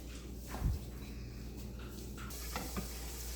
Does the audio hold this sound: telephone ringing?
no